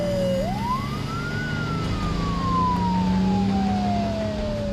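An airport fire engine's siren wails in a long rising-then-falling sweep, loud and close over a steady low engine rumble, heading toward the runway.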